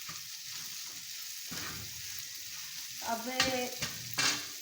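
Tawa qeema seasoned with black pepper sizzles under a mixing spoon, a soft constant fry broken by scraping strokes and metallic clinks of the spoon on the tawa, after a single brief spoken word at the start.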